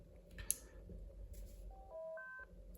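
A short electronic chirp followed by a rising sequence of clear beep tones as an AIRITON DM-188 DMR two-way radio powers on, over a low background hum.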